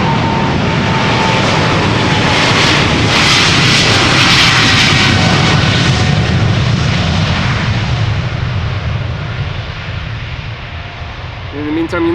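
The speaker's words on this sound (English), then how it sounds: "777-200 that is taking off to Houston" A United Airlines Boeing 777-200 on flight 21 to Houston takes off from Amsterdam Schiphol, its jet engines roaring loud and close for several seconds before the thunder slowly thins and recedes.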